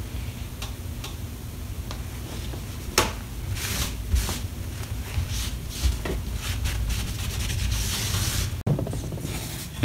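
Someone sands the frame of a crank organ smooth by hand, making repeated scratchy rubbing strokes at close range. The strokes come at a fairly steady rhythm, with occasional light knocks and no voices.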